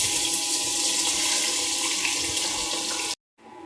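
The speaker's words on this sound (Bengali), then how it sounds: "আমি এখানে কেটে রাখা পেঁয়াজগুলো অ্যাড করে দেবো।" Chopped onions hit hot cooking oil in a home kitchen, giving a loud, steady close-up sizzle that hisses evenly for about three seconds before cutting off abruptly.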